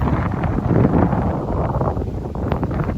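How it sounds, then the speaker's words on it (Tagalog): Strong wind on a rooftop buffets the microphone in a steady, loud roar that never lets up. "Lakas ang hangin."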